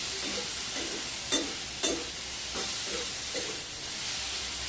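Food cooking in a pan gives a soft, even sizzle while a spatula stirs it in a few brief scraping strokes, fairly quiet and close.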